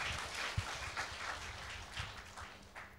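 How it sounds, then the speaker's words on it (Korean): Applause from the audience at a 2017 public administration forum session on generational conflict, a steady wash of clapping at moderate distance with no talk over it. "예, 박수 좀 주시죠."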